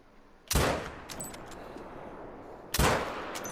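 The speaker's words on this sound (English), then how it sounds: "I did put 2 shots into him" Two loud, sharp rifle shots fired at a piebald fallow deer, spaced about two seconds apart, each ringing out with a decaying echo over a quiet background.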